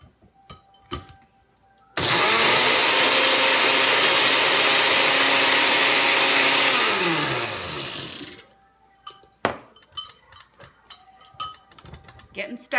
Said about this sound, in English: I was hoping my blender would do the work for me.